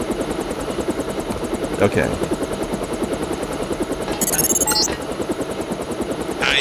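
A helicopter flies in the Deus Ex video game, its rotor beating in a steady, rapid thrum throughout, with a voice speaking over it and brief sharp electronic blips.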